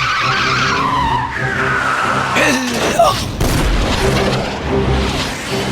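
A cartoon car battle's micro missile attack brings loud whooshing skids and booming blasts over a busy soundtrack, with dense bursts near the middle.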